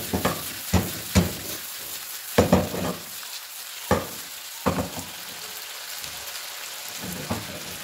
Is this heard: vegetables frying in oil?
yes